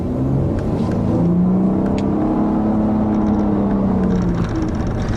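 A 2015 Nissan Altima 3.5 SL accelerating under moderate throttle, its engine note rising in pitch as it pulls, a steady close interior drone with no talk.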